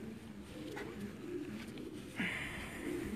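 A racing pigeon coos softly in low, repeated throaty phrases, quiet and close, with a brief sharper noise near the end.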